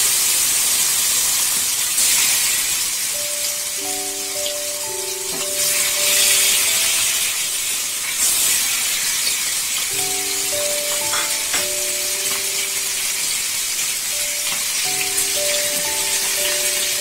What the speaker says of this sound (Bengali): মাছটা আমি ভেজে নেব, তেল গরম হয়ে গেছে